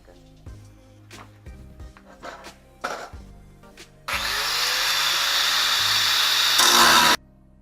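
A power tool cuts during a rear bumper install on an LS Nova car, loud and continuous for about three seconds after several knocks and clunks of handling, then stopping abruptly.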